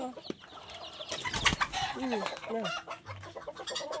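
Chickens cluck nearby, several short clucks and squawks in an irregular pattern, with faint background noise and rustling.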